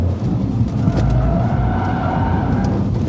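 A Toyota Yaris GR is driven flat out on a dry surface, its engine roaring steadily and loudly up close while the tyres hiss and skid in a continuous slide.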